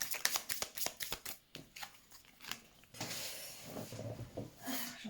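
Tarot cards are shuffled and handled up close, a quick series of crisp riffling snaps followed by softer sliding and rustling of the cards.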